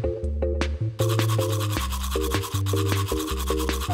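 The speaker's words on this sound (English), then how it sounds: "First, let's brush his teeth." Cartoon toothbrushing in the Lingokids app game, a steady, bright scrubbing loop set against a plinking musical jingle, close and loud with no talking.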